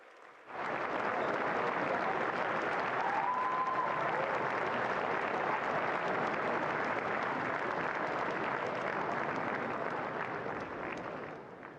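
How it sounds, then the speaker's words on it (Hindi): Sustained audience applause fills an auditorium at Bharat Mandapam during a youth leaders' dialogue, a thick even roar of many hands clapping that starts abruptly and holds for over ten seconds. "तालियों की गड़गड़ाहट से स्वागत करें"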